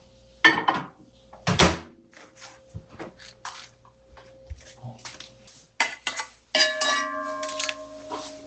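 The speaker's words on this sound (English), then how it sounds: "The clinking of pots," Pots clink and clatter in a kitchen: a scattered series of sharp metallic knocks and thuds, some louder than others, with a faint steady hum underneath and a ringing tone near the end.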